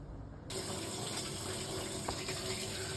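Cold water runs steadily from an inlet hose into a power flush machine set up for flushing the loops of a solar thermal hot water panel system, a continuous loud gushing fill with no talk.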